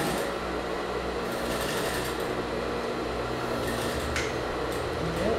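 A sewing machine runs steadily, stitching down the shoulder seam of a long beach cover-up dress, its continuous close mechanical whir heard alone without pauses.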